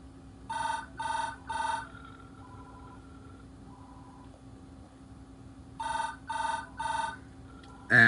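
An office desk phone rings for a transferred call, two sets of three electronic trills separated by a pause, clear and close over a faint steady hum.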